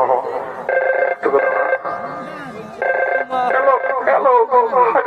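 A telephone rings with a repeating electronic tone during a comedy skit, steady and fairly loud, with people talking over and between the rings.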